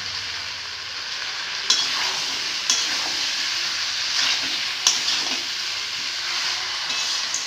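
Fried onions and whole potatoes stir-fried with melted tomato and salt in a pan, a steady close sizzle with occasional sharp spatula knocks against the pan.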